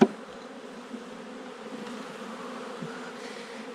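Honey bees buzz around a hive frame of drawn comb and honey in a steady, continuous hum that stays close and fairly soft, with no voices.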